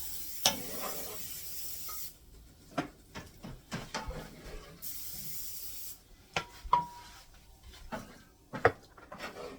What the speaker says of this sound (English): you're going to spoon this all into the bottom